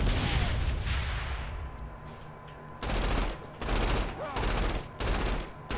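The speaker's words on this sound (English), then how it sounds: "I'm shooting at the thing." Saints Row IV gunfire: a long, dense roar of shooting gives way to several loud, close bursts of rapid automatic fire with brief gaps between them.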